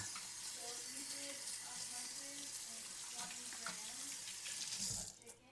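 Kitchen tap water runs steadily into a sink while hands are washed during meal prep, a continuous moderate splashing rush that cuts off near the end.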